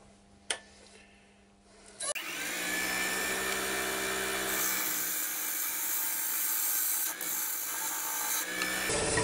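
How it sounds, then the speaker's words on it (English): A gouge cuts a big walnut bowl blank on a wood lathe, a steady, loud broadband scraping that starts after about two seconds of quieter noise and holds continuously, close and sustained, with no talk. "So I'm just going to carry on now with nice gentle strokes and get a bit of shape on this big lump of wood."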